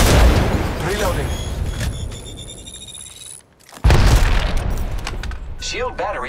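Loud booming gunfire and explosions from Apex Legends Mobile ranked play roll over continuous in-game voice chatter, dip briefly into near silence, then erupt again with heavy rumbling blasts.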